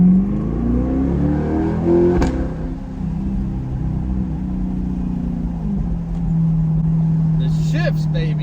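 A C8 Corvette accelerates and revs hard, its engine tone loud and close, rising and then settling into a steady drone as the car pulls away on the road.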